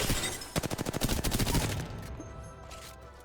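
Rapid bursts of gunfire from a first-person shooter game during an aim warm-up, a quick string of sharp, evenly spaced shots followed by a fainter, softer tail with scattered lighter pops.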